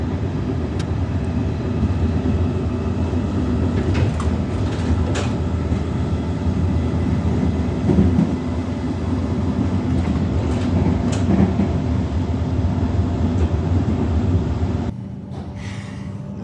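A Melbourne suburban train rolls steadily along the rails with a continuous rumbling drone and faint clicking, heard from inside, easing to a quieter hum near the end.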